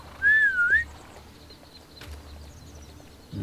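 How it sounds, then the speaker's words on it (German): A horse-calling whistle in the Lego Worlds video game: one loud, wavering whistled tone lasting under a second, followed by quiet game ambience. "Und der kann auch hier ein Pferd rufen."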